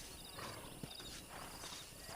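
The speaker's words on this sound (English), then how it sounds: "Oh, the horses." Horses in the video game Red Dead Redemption, with faint, soft hoof clip-clops plodding at a walking pace under a quiet background hiss.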